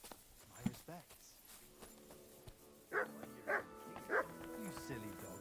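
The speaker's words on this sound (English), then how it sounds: "You silly doggy." A dog barks three times in quick succession in the medieval video game Kingdom Come Deliverance 2, close and clear over steady music and ambience, after softer earlier noises and speech.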